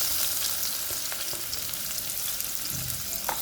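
Onions fry in the leftover oil from frying sarpunti fish, giving a dense, steady sizzle up close with occasional sharp pops and light stirring scrapes.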